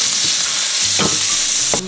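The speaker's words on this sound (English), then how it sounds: "Butter. Shallots. And you just want to cook these down until they're fragrant." Shallots sauté in butter and oil in a pan, making a loud, close, continuous sizzle with a few soft utensil knocks and stirring scrapes.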